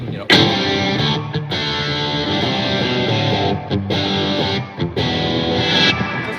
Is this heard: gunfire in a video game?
no